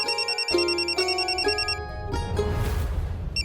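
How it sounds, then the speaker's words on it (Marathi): A telephone rings in a home in a TV drama, with a series of bright repeating electronic trills close by, followed by rustling and background noise. "जावई बापूंचा फोन."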